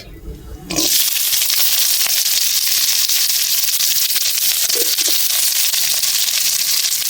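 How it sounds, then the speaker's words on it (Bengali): Sliced onion drops into hot oil left from frying taro and potato for a prawn curry and bursts into a loud, steady sizzle that holds without a break. "আমি পরিমাণ মতো ফের একটু তেল দিয়ে দিচ্ছি। দিয়ে দিচ্ছি পেঁয়াজ"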